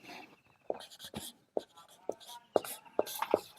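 A pen scratches on paper in short, separate strokes and taps, close and quiet, with no talking.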